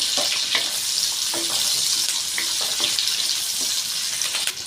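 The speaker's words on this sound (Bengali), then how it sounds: "পেঁয়াজ কাঁচা লঙ্কা ভালো করে ভেজে নেব" Constant hissing sizzle of onions and green chillies frying in hot oil, with faint clinks and scrapes of stirring mixed in.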